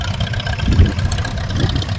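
A Farmall tractor engine runs steadily at a steam rally, a low rumbling idle with a continuous mid-distance throb and outdoor background noise, no talk over it.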